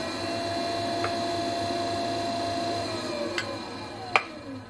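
A Thomas Stuart Skutt electric pottery wheel runs with a steady motor hum and whine that holds throughout. A few faint ticks and one sharper click come near the end.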